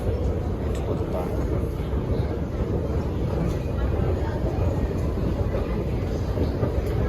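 A Guangzhou subway train arrives at a deep underground station, producing a loud, continuous low rumble and roar that fills the whole stretch without letting up.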